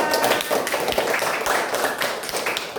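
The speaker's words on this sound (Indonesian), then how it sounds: "Ya, tepuk tangan untuk Akra." Classroom pupils clap hands together in a quick, brief burst of uneven claps.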